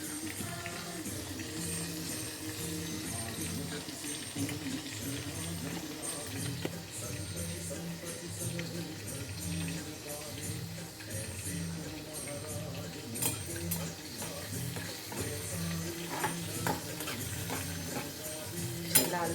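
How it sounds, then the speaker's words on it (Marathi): Food frying in hot oil in a pan on a gas stove at medium-high heat, a steady low sizzle with occasional stirring clinks of a utensil against the pan throughout. "गॅसवर तुम्ही छानपैकी तळून घ्या."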